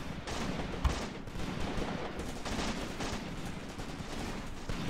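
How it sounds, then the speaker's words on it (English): Rifle gunfire from soldiers shooting back in a Graviteam Tactics battle, steady distant crackling volleys over a dense noisy background with no clear single shots standing out. "Our men are returning fire"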